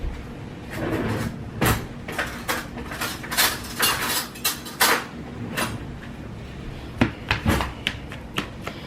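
Kitchen clatter as a spoon and a small measuring cup are grabbed: a run of sharp metallic clinks and knocks, several close together and some spaced out, close-up with no voices.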